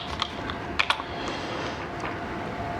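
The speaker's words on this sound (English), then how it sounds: "let's go ahead and start that up just by typing Sway here at the command line" Light keystrokes on the keyboard of an MNT Reform laptop while entering a command at the command line, a few scattered quiet clicks over a steady low hum, no voices.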